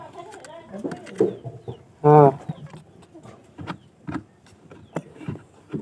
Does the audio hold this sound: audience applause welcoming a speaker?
no